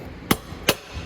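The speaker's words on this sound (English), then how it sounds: "A little tappy with the hammer." Two sharp, light metallic taps of a hammer on the axle of an electric ATV, evenly spaced and close, with quiet between them.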